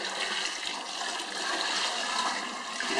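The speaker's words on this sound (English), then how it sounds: "So we're adding 10 quarts of water." Ten quarts of water pour steadily into a pot being filled for boiling, a continuous loud rushing gush that holds for the whole stretch with no talk over it.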